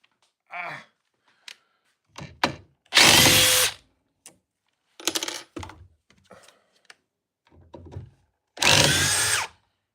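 Surge Gen 2 impact driver fired in several short bursts of varying length, with two longer loud runs, separated by quiet gaps and small clicks and handling noises, close up with no talking.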